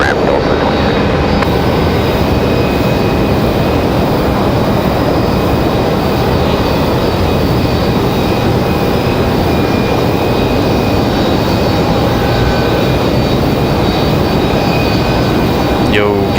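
Loud airliner arrivals at Raleigh-Durham airport make a steady, dense jet roar lasting throughout, with faint radio-style voice traffic underneath.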